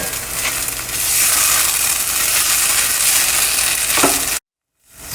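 Long beans roast in a pan with a loud, steady frying hiss and occasional stirring scrapes, close up, cutting off abruptly into brief silence near the end.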